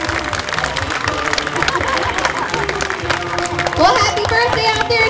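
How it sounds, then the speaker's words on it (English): Audience at a marine park show at Atlantis Marine World gives a birthday round of applause, a steady wash of clapping and crowd noise with cheering swelling near the end. "Everybody give him a great big birthday round of applause."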